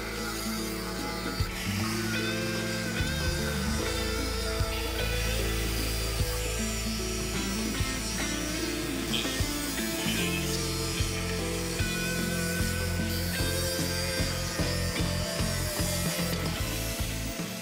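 Metal exhaust pipe being cut and trimmed to fit a dry stack exhaust on an expedition boat, giving a loud, continuous grinding, buzzing cut that runs steadily throughout with no talk.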